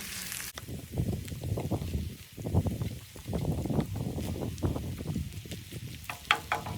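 Chicken hearts and gizzards frying in a pan for a Filipino bopis-style dish give a soft, steady crackle with scattered pops and a low rumble underneath.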